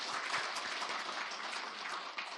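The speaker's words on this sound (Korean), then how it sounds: "우리 하나님께 영광의 박수 한번 돌리겠습니다" A church congregation at a Sunday worship service claps together in praise to God, a dense and sustained round of applause heard on its own without any talking.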